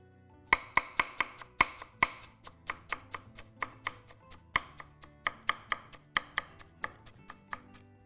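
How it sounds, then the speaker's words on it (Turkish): A knife chopping fresh dill on a cutting board in a kitchen, with crisp, rapid strokes in quick bursts, some louder and some softer, close up and with no talking. "biraz da yeşilliğimiz hemen şuradan biraz dereotumu da doğrayacağım"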